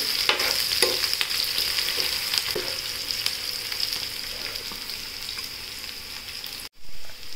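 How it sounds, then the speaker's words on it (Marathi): Onion sautés in oil with a constant bright sizzle and occasional soft stirring clicks, fairly quiet and unbroken until a brief drop near the end. "आता आपण तेलात छानपैकी कांदा परतून घेऊया."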